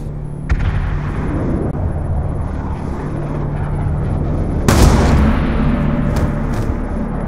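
Gunfire in the Call of Duty Black Ops II campaign: a rumbling battle backdrop with a sharp shot early on and a louder, heavier blast a few seconds later.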